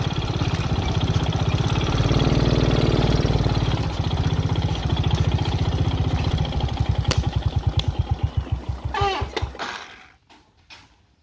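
A motorcycle engine idles with an even, close, chugging pulse that slows and stutters near the end before cutting out into near silence.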